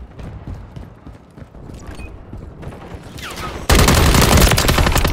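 Gunfire in the shooter video game Call of Duty: Modern Warfare 3, scattered shots and mechanical clatter at first, then a sudden loud sustained burst of rapid automatic fire filling the last second and a half.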